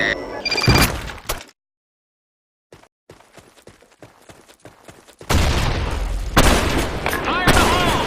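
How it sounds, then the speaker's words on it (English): In a video game, a heavy grenade blast and bursts of gunfire erupt, loud and close, with a brief silence between them and shouted voices mixed in. "Grenade!"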